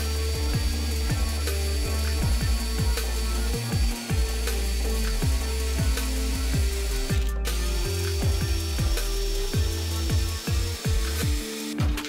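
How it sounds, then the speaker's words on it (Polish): A special drill bit widens a recess in an M-look bumper on a BMW E60/E61 LCI, giving a loud, continuous grinding whir with rapid repeated ratcheting catches as the bit bites into the plastic, close and steady throughout. "Ja mam takie specjalne wiertło."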